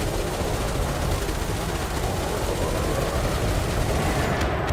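Spaceship cannons fire in the space combat game Elite Dangerous in a dense, continuous barrage of rapid blasts over a heavy low rumble, loud and unbroken, with no voices.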